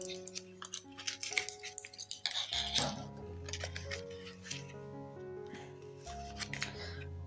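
Packaging of a unicorn sticker book with 150 stickers being torn and opened up close, a run of crinkly rustles, snips and light clinks over steady low background tones.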